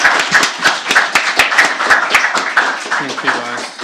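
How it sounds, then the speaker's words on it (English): Audience applause for candidates at a PTO question-time event, steady close clapping from a small crowd throughout, with some voices mixed in near the end. "A huge round of applause for our candidates for coming up with that"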